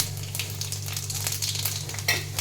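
Bengali five-spice seeds (panch phoron) crackling in hot oil for a bottle gourd dish, a steady close sizzle with light popping throughout.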